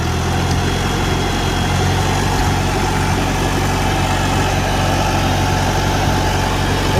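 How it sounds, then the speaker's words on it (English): A 1949 Farmall Super A tractor engine runs steadily after starting, a loud, close, constant rumbling idle with no talk over it. "Pull the switch. Starts up beautifully."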